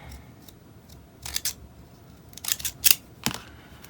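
Scissors snip through paper planner tabs in a few short, crisp bursts, sparse at first and then clustered, close and fairly quiet with no talk.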